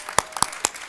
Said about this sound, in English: Yay, I can clap now.